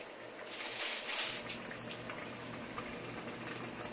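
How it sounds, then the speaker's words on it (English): An empanada dropped into hot oil in a pot, a bright burst of bubbling sizzle that settles into steady, softer frying, close and alone. "I'm going to put the empanada in the hot oil"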